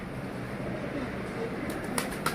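Pigeons cooing in a rooftop loft: soft low throaty calls under a constant outdoor hiss, with a few short sharp clicks or taps near the end and no clear speech.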